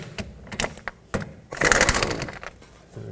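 A 21mm socket working the inner tie rod mounting nut off a 2005-2010 Pontiac G6, with close metallic clicks and clanks, then a short burst of grinding ratchet noise and a few scattered knocks.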